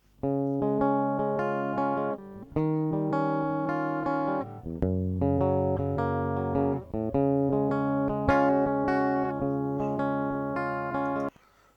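Electric guitar through an ADA MP1 preamp, compressed with a Waves Renaissance Axe plugin, plays chords and single notes, each ringing out at an even, controlled loudness with no voices.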